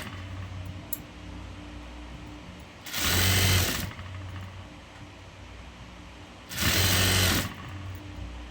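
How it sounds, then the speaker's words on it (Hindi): A sewing machine stitches the bottom hem of a girl's ruffle frock fabric. It runs in two short bursts of about a second each, separated by quiet pauses, and is heard close up without speech. "तो इसको मैं पहले नीचे से इसका किनारा सिलाई करूँगी।"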